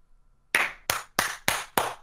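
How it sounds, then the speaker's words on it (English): Five sharp hand claps at a steady, even pace, close and loud against near silence, during a game of CS:GO. "Don't you clap at me."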